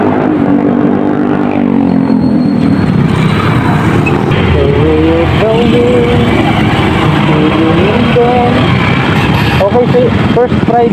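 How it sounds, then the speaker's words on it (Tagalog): Dense road traffic on a congested street in Landayan, heard from a scooter, with a loud constant engine and traffic roar, passing vehicles and a horn-like tone, while a person talks throughout. "napaka-traffic dito no, sa Landayang"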